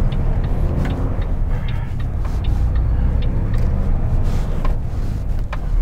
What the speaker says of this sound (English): Now we'll see how this truck does pulling out from here.